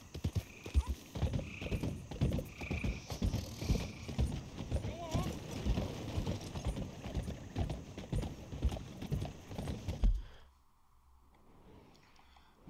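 Horse hooves clip-clopping in the Red Dead Redemption 2 video game, a steady rhythmic gait under talking voices and background game sound, then cutting off abruptly near the end.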